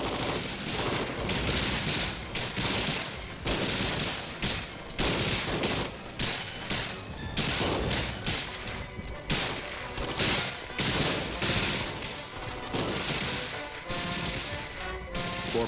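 M14 rifles fire on full automatic from the hip in short bursts during Vietnam-era infantry assault tactics: rapid overlapping cracks of several rifles go on without letup, loud and close.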